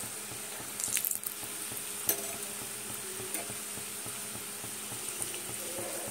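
Potato and paneer singaras fry in hot oil, giving a steady low sizzle throughout with a few brief clatters and stirring knocks near the start.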